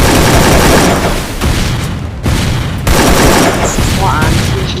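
Pistol fire in the mobile shooter Free Fire: loud, dense bursts of shots and booming impacts pound almost without pause, with excited player voices mixed in.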